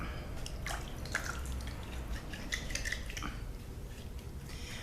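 Water splashes and drips as oily sugar scrub spa bars are wetted, giving close irregular wet patters and trickles over a steady running background, with no voices.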